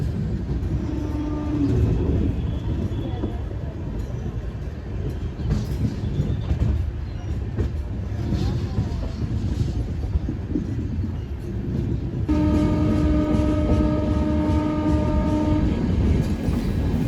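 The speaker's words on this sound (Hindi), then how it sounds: "ट्रेन अच्छी खासी स्पीड में स्किप कर रही है।" New Delhi–Banaras superfast train (12582) running at speed through Prayagraj Rambagh station, with a continuous heavy rumble and rattle of wheels and carriages, a short horn blast early and a longer sustained horn later; no speech.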